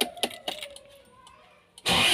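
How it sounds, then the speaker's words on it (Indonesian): A car that resists going into gear is started: a few faint keylike clicks and a quiet pause come first, then the engine abruptly catches with a loud, sustained burst at the end. "kemudian setelah itu kita hidupkan mobil kita"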